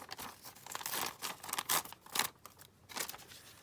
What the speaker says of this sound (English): I'm just going to tear some doily down